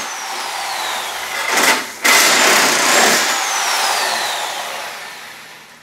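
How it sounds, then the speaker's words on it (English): Reciprocating saw cutting through the exhaust pipe of a 1991–2001 Toyota Camry during an engine swap, a loud steady buzzing cut with a brief break and restart partway through, then continuing to the end. "we're just going to take a sawzall and cut that exhaust off"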